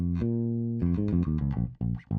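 A held low bass guitar note gives way to a quick run of plucked pentatonic notes in a unison phrase, played tight and rhythmic, ending with a couple of punchy hits.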